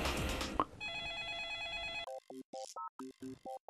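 A telephone rings out on a call to a friend, a clear electronic ringtone of repeated short tonal bursts in a steady pattern after a brief rustle, fairly close and without talk.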